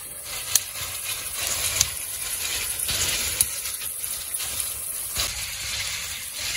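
Hot oil sizzles and fries steadily in a pan of mutton curry, a dense close hiss with a few sharp clinks of a utensil against the pan.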